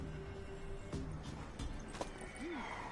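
A horse in a video game, heard faintly with a few scattered hoof clops and a short whinny-like call near the end, set against a low background hum.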